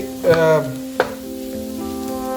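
Liver pepper fry being stirred in a pan after coriander leaves go in, with a couple of short scraping knocks of the spoon over a steady low sizzle and a faint background hum.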